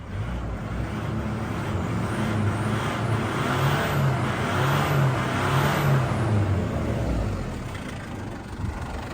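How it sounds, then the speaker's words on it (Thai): A used car's engine idles smoothly and steadily, a low even hum heard close up on its own without speech. "เครื่องดังนิ่มดังดีสวยงาม"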